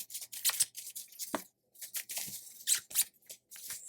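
Zips on packing cubes are pulled open and shut in short, scratchy bursts with quiet gaps, faint and close, with no talking.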